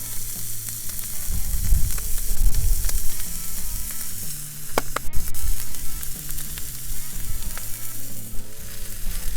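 Burgers sizzling and frying on an Akorn Kamado grill, a steady dense crackle with a few sharper pops and light stirring or scraping, close and continuous with no talk.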